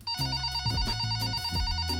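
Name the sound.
telephone ringing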